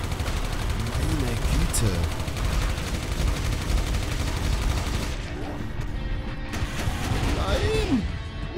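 Cannon fire in the video game Final Exam, dense loud bursts of gunfire and crashing impacts throughout, with a person talking briefly over the din.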